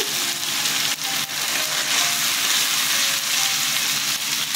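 Ginger-chili paste and tomato paste frying in a pan, a loud, continuous close sizzle with light stirring scrapes and no talk.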